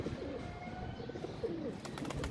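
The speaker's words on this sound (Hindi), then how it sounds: "कबूतर है दोस्तों" Pigeons kept by a hobbyist coo softly in low, rolling, repeated calls close by, with faint background noise and no talking.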